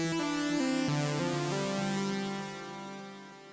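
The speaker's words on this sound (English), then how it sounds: "Such sounds of funky synthesizers." Funky synthesizer tones from an ARP Odyssey plugin, bright sustained harmonic notes shifting in pitch through a short phrase, clear and steady with no talk over them.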